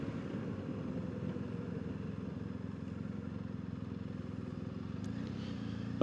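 Motorcycle riding along a road on a warm, sunny day in China, with a steady engine drone and road rumble close by that runs the whole stretch, no voices.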